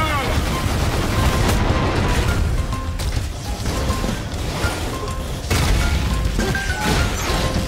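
Missile fire and explosions in F.I.S.T. Forged In Shadow Torch form a loud, continuous barrage of blasts and impacts, dense and close, with a few sudden louder hits.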